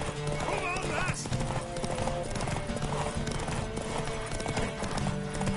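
In The Witcher 3: Wild Hunt, a horse's hooves clip-clop in a quick, rhythmic run beneath game music and voices talking over it.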